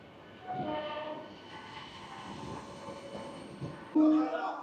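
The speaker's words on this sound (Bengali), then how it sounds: "দেখতে পাচ্ছেন এসি লোকালের সঙ্গে দেখা হয়ে গেল।" An AC local train passing near Amghata on the Amghata–Krishnanagar line: a steady rumble of rolling wagons, building and easing, then a loud horn blast close by near the end.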